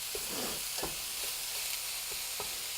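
Ground hamburger meat browning in a pan, a continuous sizzle broken by repeated scraping strokes of a utensil breaking up and stirring the meat, close and fairly loud.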